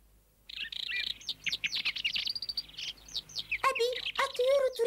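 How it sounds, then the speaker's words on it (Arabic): Many small cartoon birds chirp and trill in quick, bright overlapping bursts, starting after a brief silence and growing denser and louder toward the end, with no talking. "الطيور تريد أن تغني أكثر"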